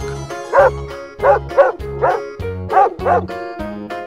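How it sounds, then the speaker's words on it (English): Repeated dog barks from a toy-animal play setting, about seven sharp bow-wow yaps in a steady rhythm, close and fairly loud over a low background hum. "Dog."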